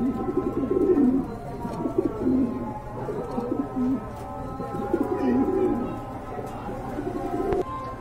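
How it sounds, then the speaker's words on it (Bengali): Black Lahori pigeons coo in repeated low, rolling phrases, close and steady, with faint background rumble and no talk. "এই যে দেখতে পাচ্ছেন নতুন কবুতর"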